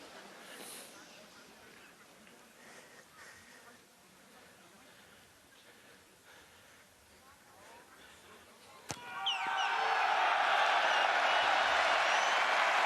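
Rugby stadium crowd at a Vannes versus Oyonnax Pro D2 match, a distant murmur under commentary that swells suddenly into loud, sustained cheering after a sharp bang.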